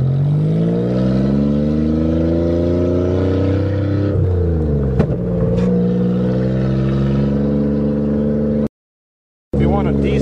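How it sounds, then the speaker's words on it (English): A manual Toyota car on a farm gearing down: a loud, steady engine drone whose pitch drops as the revs fall, then shifts and settles lower, before a brief cutout near the end. "Now I'm going to show you what gearing down is."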